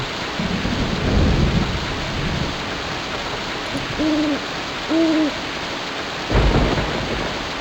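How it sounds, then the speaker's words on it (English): Rain hisses steadily in the Grand Slam Turkey Hunt video game while deep thunder rumbles roll in and out, with a few soft owl hoots sounding in the middle. "the rain is like so fucked up in this game"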